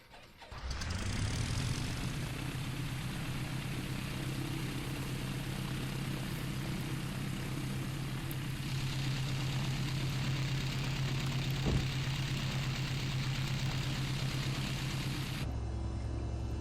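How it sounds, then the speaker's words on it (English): A Piper Arrow propeller aircraft engine in Microsoft Flight Simulator starts up and settles into a loud, steady droning run that continues without a break. "it's time to go into VR mode and check out what this aircraft sounds like"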